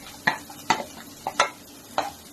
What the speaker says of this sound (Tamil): ஸோ ஆனியன் ப்ரௌன் ஆகிற வரைக்கும் நல்லா ஃப்ரை பண்ணிக்கலாம்.